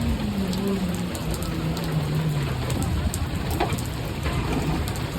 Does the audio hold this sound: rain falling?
yes